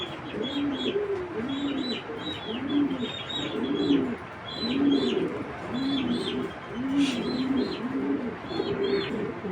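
Male racing pigeons cooing steadily at a loft, repeated low rolling coos in a regular rhythm, fairly close, with faint chirps from other birds behind and no talk.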